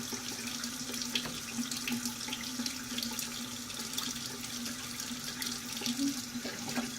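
Water runs steadily from a tap into a sink while makeup brushes are rinsed, a close, continuous hiss and splash with no talking.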